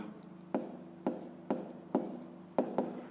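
Handwriting during a fifth-grade math lesson: six scratchy strokes at a steady pace over a low, constant hum, close and clear, with no voices.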